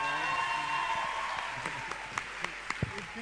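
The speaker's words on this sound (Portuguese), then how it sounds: "Uma salva de palmas para o doutor" Applause from an audience for a speaker at a business talk, thinning out into a few scattered claps over a few seconds.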